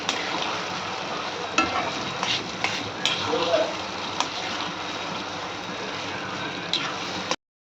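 Sweet mango pickle with chili powder sautés in hot oil, giving a loud, steady sizzle and frying hiss with occasional stirring scrapes and clinks throughout.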